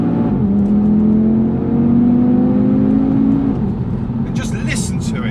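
A 2019 Audi TT RS engine revs up with a rising, rasping tone under steady load, then eases off and settles while a voice talks briefly near the end.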